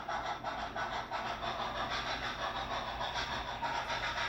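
A Division Point brass model train locomotive runs with a TCS version 4.5 sound decoder playing through a small iPhone speaker, giving a steady close chuffing rumble with faint rhythmic pulses throughout, and no talking.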